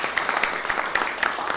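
Audience applause in a city council chamber, a short burst of scattered hand clapping at moderate distance, slightly thin and uneven.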